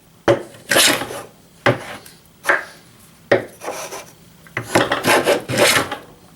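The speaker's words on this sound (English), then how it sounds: "So we got our beam kind of planed down to what we need it to." A hand plane takes repeated raspy shaving strokes along a small wooden beam for a Japanese kebiki marking gauge, about eight close, loud strokes in an uneven rhythm with short pauses between, and no talking.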